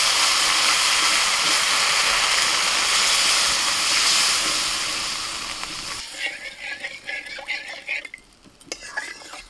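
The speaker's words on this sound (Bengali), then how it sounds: "মশলাটা ফুটছে" A spice paste for okra curry boils and sizzles loudly in a pan after water is added, a dense frying hiss that drops away midway into quieter bubbling and utensil clinks.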